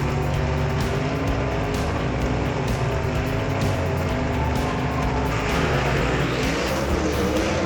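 Gasser drag race cars roaring down Knoxville Dragway in the final race of the night, a loud continuous engine howl with steady low rumble throughout, rising slightly in intensity late in the run.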